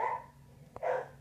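Two bursts of dog barking in a garage, one at the start and a louder one near the end, with a brief sharp click between them.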